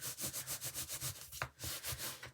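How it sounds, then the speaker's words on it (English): A paper edge is rubbed down onto an envelope with a rapid run of soft, even scraping strokes, close and quiet, followed by a brief tap and a few more strokes. "I'm going to give it a little rub here."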